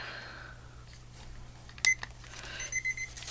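A kitchen-style countdown timer at a paper-crafting desk, giving a few quick electronic beeps in bursts near the end over a low steady hum.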